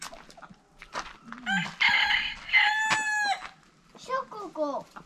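Chickens cluck and a rooster crows loudly nearby at a rural yard in Moldova, with several bursts of calls and quieter clucking between them while people speak softly.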